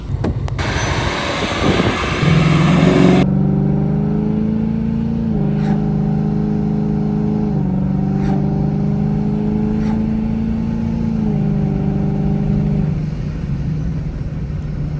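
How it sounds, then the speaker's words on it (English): A 2020 Mustang GT with an XForce 3-inch catback exhaust, valves open, accelerates moderately with a deep, throaty rumble, rising and shifting through gears, loud and close with no talking. "So that's just moderate acceleration with the valves opened."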